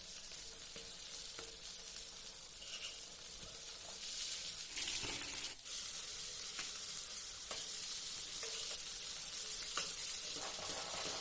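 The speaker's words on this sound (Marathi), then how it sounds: "तर मच्छी मी दोन्ही बाजूने चांगली खरपूस फ्राय करून घेतली आहे." Fish frying crisp on both sides in a pan, a steady close hiss and sizzle throughout with a short louder crackling flare near the middle, no voices.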